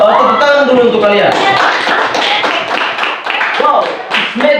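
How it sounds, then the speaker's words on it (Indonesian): Students in an Islamic cultural history classroom clap for the groups that just presented. A voice is heard briefly at the start, then scattered, uneven hand claps and taps follow close by. "Tepuk tangan dulu untuk kalian."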